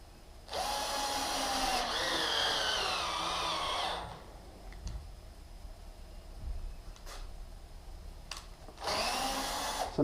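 Power drill driving 1¼-inch screws into a wooden cabinet, with two loud, steady whirring bursts near the start and another near the end, separated by quieter pauses with faint knocks.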